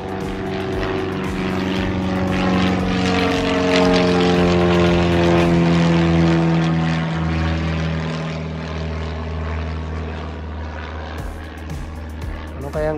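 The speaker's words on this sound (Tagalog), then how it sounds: "Ano kayang eroplano yun guys?" A propeller airplane passes overhead in an outdoor setting, a loud, steady droning engine with rising and falling pitch that swells to a peak mid-pass and slowly fades, with faint background chatter.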